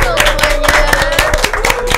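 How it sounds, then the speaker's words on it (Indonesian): Several people clap their hands at a lively pace, the claps close and fairly loud under steady music with a held tone. "tepuk tangan dong"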